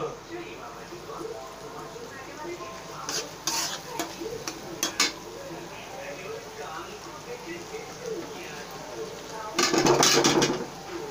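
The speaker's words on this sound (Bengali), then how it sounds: "পেঁয়াজের সাথে মাছটা দিয়ে আর একটু ভালো করে ভেজে নিচ্ছি।" Hilsa fish fries with onion in a pan, giving a continuous crackling sizzle with occasional utensil scrapes and a loud burst of spatter toward the end, while a voice speaks over it at times.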